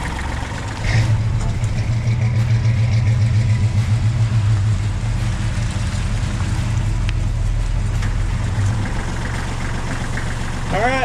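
A truck engine runs steadily and loudly up close, with a low rumbling idle and some knocking through most of the stretch, while people talk over it.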